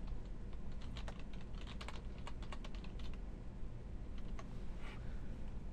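Fast, light key taps on a computer keyboard form a quick run of clicks as a name is typed, steady and close with no talk over them.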